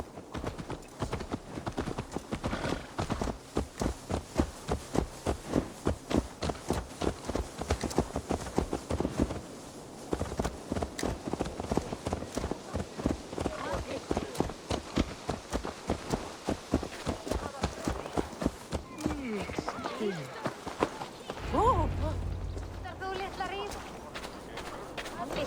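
Rhythmic horse hooves clip-clopping steadily in Assassin's Creed Valhalla, a game, with a bright, evenly paced patter running across most of the stretch before fading near the end, while characters talk over it.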